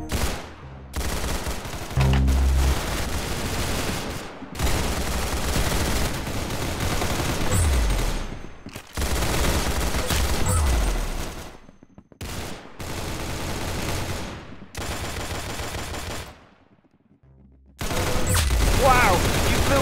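Gunfire in the shooter game Arsenal comes in loud repeated bursts of rapid shots, broken by short silences and separate clusters across the stretch, with voices talking between volleys.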